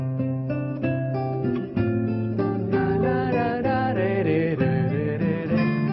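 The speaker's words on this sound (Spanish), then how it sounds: "La acústica es natural. Está hecha de palo, tiene cuerdas de nylon y suena así." Nylon-string acoustic guitar with a wooden body, strummed and picked in a gentle flowing pattern of chords and melody, moderately quiet and close, with no voices.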